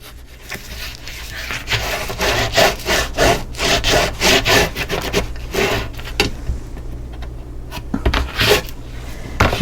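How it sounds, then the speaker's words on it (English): Glued paper on a mini album cover being burnished by hand, a rhythmic series of close rubbing strokes that rise and fall repeatedly, then slow to fainter scattered rubs. "You want to burnish everything."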